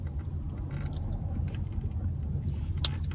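A car drives in traffic, giving a steady low engine and road rumble from inside the vehicle with a few faint clicks and rattles on top.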